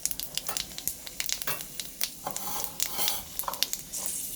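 Panch phoron five-spice seeds and dried red chillies crackle in hot oil, a close, busy sizzle with rapid popping spatters and sharp crackles throughout.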